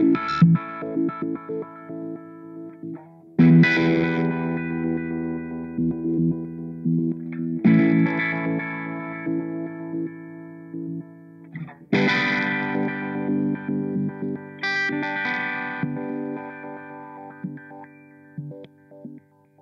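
Guitar through a Line 6 FM-4 Filter Modeler gives a soft pad-like filtered tone, sustained chord swells rising and fading in several long phrases, close and alone without talk.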